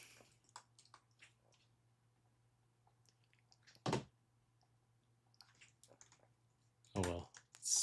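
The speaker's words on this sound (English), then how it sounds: "Keyboard not working." Sparse keystrokes on a computer keyboard, scattered soft taps with two louder clacks, heard close in a quiet room over a low steady hum.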